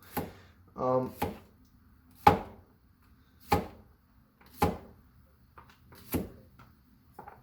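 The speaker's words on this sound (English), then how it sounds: "make sure to use a knife like this because this is very appropriate for cutting vegetables" Vegetables sliced thinly with a kitchen knife, a series of separate sharp knocks of the blade on a cutting board at a slow, irregular pace, close and fairly quiet, with a brief voice between cuts.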